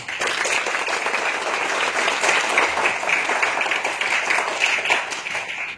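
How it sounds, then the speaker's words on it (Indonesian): Sustained applause from an audience at a hotel's sixth-anniversary celebration in Medan, a dense, steady clapping that stays loud and even throughout with no speech over it. "Tepuk tangan untuk Miyai"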